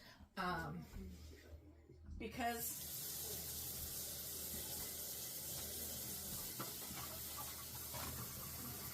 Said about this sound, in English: I have the water going, started getting hot.